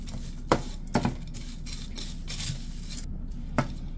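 Dehydrated cabbage, carrots and onions are stirred in a pot for a meal-in-a-jar recipe, giving soft scraping and rubbing with a few sharp utensil knocks against the pot, close and fairly quiet.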